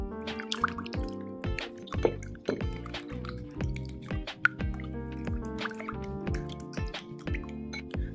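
Water and glue are stirred quickly together for clear slime, producing close, rapid, irregular wet clicks, drips and squelches in a busy sticky rhythm.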